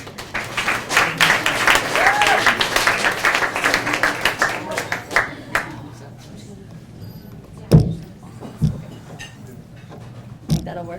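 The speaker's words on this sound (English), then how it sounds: "please give Calie a round of applause." An audience applauds for a performer named Calie, with a full burst of clapping for about five seconds that thins out into a few scattered claps and soft room noises.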